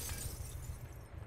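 Window glass shatters in the PUBG battle royale video game, a short, muffled crash over a low rumble that fades out within about a second.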